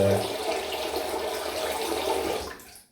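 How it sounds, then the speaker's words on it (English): Hot water runs steadily from a tap into a bathroom wash basin as a continuous close splashing rush, then cuts off and falls quiet near the end. "Just add a little bit more hot water into the basin here"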